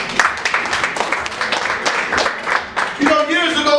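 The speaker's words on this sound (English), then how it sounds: "please take a moment and clap yourselves up" Audience at an award ceremony clapping in a brief burst of applause, scattered claps fading out before a voice begins speaking near the end.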